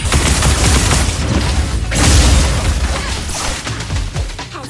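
Rapid gunfire and heavy booms fill a firefight in the video game Neverness to Everness, a loud, dense burst of shots and impacts with no pause.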